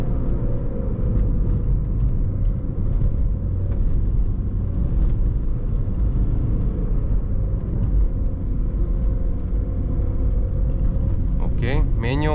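A VW Polo V 1.6 TDI 90 HP with a 7-speed DSG gearbox accelerates, its diesel engine giving a loud, steady, low rumbling drone from inside the car, with a brief shift in tone near the end.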